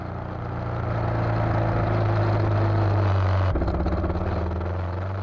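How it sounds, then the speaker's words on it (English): A motorcycle rides up a mountainside road in Alaska, its engine a steady, close drone that rises slightly in pitch, with a shift in tone partway through as it keeps climbing. "I'm just driving up the mountainside on the very last leg of the trip"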